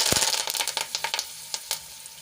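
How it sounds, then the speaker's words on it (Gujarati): Curry leaves dropped into hot oil with cumin and asafoetida for a tempering crackle and sizzle close up, loudest at the start, then easing into scattered sharp pops and spatters. "છ થી સાત મીઠા લીમડાના પાન એડ કરીશું"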